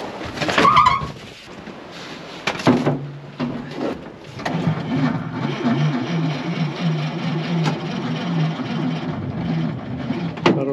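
A DT-75 crawler tractor that sat idle for half a year in the north gives a few clanks and knocks, then settles into a steady, low, rumbling engine drone that continues close by to the end.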